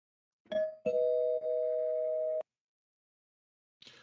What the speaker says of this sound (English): I guess I'll ring the bell just to help you out